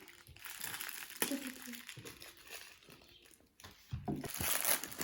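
Crinkling and rustling of a plastic diamond painting kit package being opened, in uneven bursts, with voices talking over parts of it.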